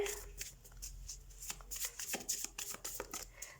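Tarot cards being shuffled by hand, a run of quick, close riffling and slapping bursts at moderate volume, without talk.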